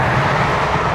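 Air Canada Boeing 787-9 Dreamliner, flight 856, on the runway at Toronto Pearson, giving a steady, loud broadband jet roar with a low rumble that holds constant throughout.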